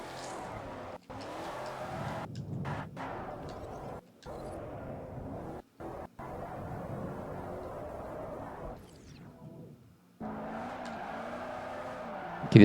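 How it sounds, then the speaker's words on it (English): A 2009 Mercedes-Benz SL 65 AMG Black Series in Forza Motorsport 4 drifts with a steady engine roar and squealing tires, broken by a few brief silent gaps and then resuming loud and close. "Oh, there goes my drift."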